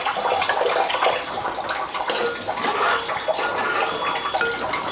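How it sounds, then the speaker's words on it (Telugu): Water pours steadily into taro root (chama gadda) pulusu curry, a continuous rushing splash lasting several seconds, close and fairly loud, with no talking. "కొంచెం వాటర్ యాడ్ చేసుకోవాలి"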